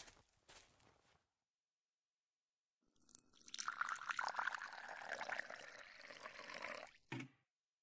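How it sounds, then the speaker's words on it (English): In the video game Martha Is Dead, a watering can pours onto plants, a steady splashing stream lasting about four seconds after a short rustle and a pause of silence. "Now that I have filled the watering can, I can water the plants."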